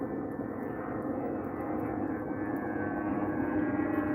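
An airplane passes overhead at night, its engine roar a steady, continuous drone with no voices over it.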